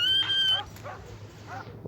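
A dog in a video game barks and yips a few times in short bursts over a steady electronic hum, with a bright synthetic tone at the start.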